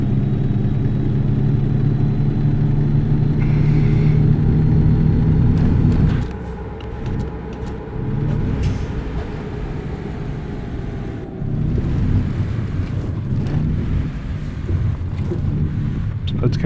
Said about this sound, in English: That's kind of your JBrake on this modern Cummins engine.